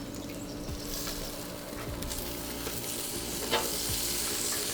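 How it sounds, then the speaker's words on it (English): A freshly flipped steak on a grill gives a continuous loud sizzle with scattered pops and crackles. The sound stays dense and steady throughout, and no one speaks. "Now we're gonna give the steak a flip"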